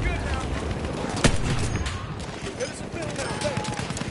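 Sustained, dense gunfire rattles through a video game battle on a PS4 Pro, continuous bursts with one sharper crack, loud and steady throughout.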